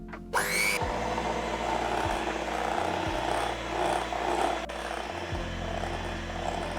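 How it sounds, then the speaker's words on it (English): Sugar and melted butter whisked together in a bowl for banana bread batter, a steady close scraping and swishing that runs unbroken under a low repeating hum, with no talking. "And now we whisk for about 3 minutes until smooth and creamy."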